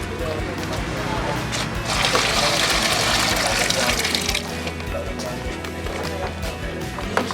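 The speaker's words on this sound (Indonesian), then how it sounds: "Setelah bersih baru kemudian campuran antara kapur dengan belerang kita tuangkan" A lime and sulfur mixture poured into a bucket, a steady rushing, splashing pour that runs continuously and swells in the middle, close and fairly loud with background voices.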